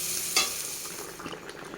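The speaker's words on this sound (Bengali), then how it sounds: "এখানে ওর বাকিটা ভাজা হচ্ছে" Prawns frying in a pan for prawn malai curry give a steady close sizzle, with a sharp spatula scrape near the start and light stirring scrapes throughout.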